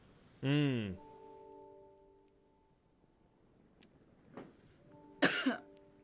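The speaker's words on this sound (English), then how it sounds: "That was a cough" A single sharp cough bursts out close by, followed by quiet with a faint tone and a couple of small noises, then another short rough vocal burst.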